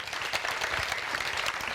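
A studio audience at a French awards show bursts into dense, steady applause to welcome a guest, a brief continuous wash of clapping with no pause.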